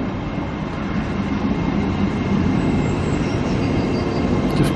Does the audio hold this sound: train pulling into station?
yes